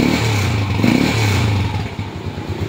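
A motorcycle engine with a battery that keeps going flat revs up and down nearby, loud and rough, pulsing through two swells before settling into a choppy idle.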